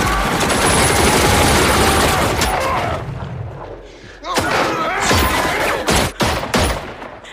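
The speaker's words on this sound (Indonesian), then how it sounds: "Otto dan yang lainnya langsung menembak para gangster itu secara membabi buta" Film gunfire as men shoot gangsters: a dense burst of rapid shots and booms, then a lull and a string of sharp, loud single shots and impacts up close.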